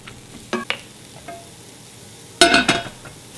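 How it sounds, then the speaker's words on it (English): Frozen meat sizzles and crackles in a pan as it starts to defrost, with a few sharp stirring clinks and a louder burst of frying near the end. Nobody speaks. "we're starting to get some sizzle here, and this is starting to defrost a little bit"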